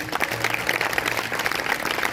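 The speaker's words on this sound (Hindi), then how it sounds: "अगर करते हैं तो जोरदार तालियां बजाएंगे" A congregation at a Sunday church service gives sustained applause, a dense, even wash of clapping from many hands that holds steady throughout.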